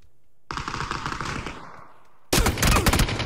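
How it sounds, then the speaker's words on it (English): Gunfire from a video game shooter in rapid automatic bursts, one volley running about a second before fading, then a louder, denser burst of shots closing out the moment. "I have no idea where anybody is shooting at me from."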